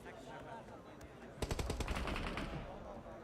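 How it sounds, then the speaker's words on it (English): Rapid bursts of gunfire in a PUBG Mobile esports match, quiet at first and then a tight volley of shots, fairly distant under a commentator's voice. "Butcher trying to stay down in the dirt for now against this bombardment from R8"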